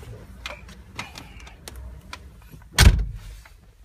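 Door of a Mercedes-Benz G550 Long Edition with white and black leather interior, a few soft clicks and rustles of someone getting in, then one loud, solid slam near the end, close by.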